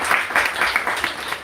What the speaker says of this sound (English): So I'd like to give them a big round of applause for coming such a long way.